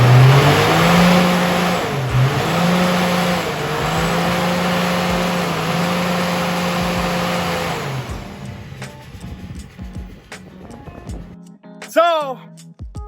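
A car engine held at full RPM, full boost and full fuel on a dyno, a loud sustained roar with wavering pitch for about eight seconds before it drops off, followed by quieter clatter and a brief high squeal.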